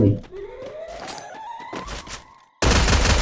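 Free Fire gunfire: a quick series of sharp shots and thuds over a rising in-game tone, ending in a sudden loud blast of noise after a short gap.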